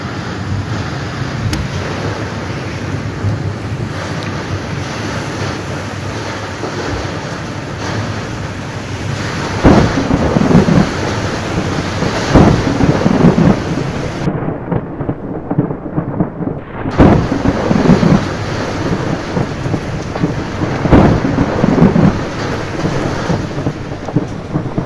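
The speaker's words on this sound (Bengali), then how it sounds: "কি হারে মেঘ গজরাচ্ছে" Thunder rolls over a rural eco resort near Kolkata, with long low rumbles building and fading under a steady hiss of wind and rain, growing louder in the second half.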